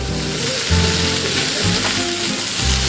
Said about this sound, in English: Put some butter in my pan.